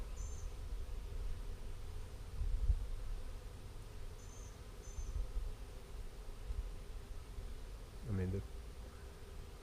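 Swarm of bees settling into a bee box outdoors, a continuous low buzzing hum throughout, with a voice speaking briefly near the end.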